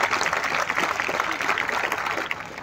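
Crowd applause rises from the audience at a public speech from the stage, dense and steady for a few seconds.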